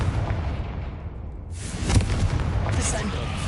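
A Confringo fire spell bursts in the Hogwarts Legacy video game, a booming explosion that swells near the two-second mark over a rumbling game soundscape.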